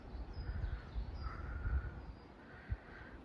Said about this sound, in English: there's some birds chirping just the other side of that railing